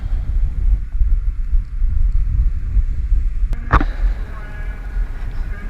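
Strong wind buffets the microphone during a windstorm along a seaside marina promenade, a steady low roaring rumble throughout, with a brief sharp clack near the end.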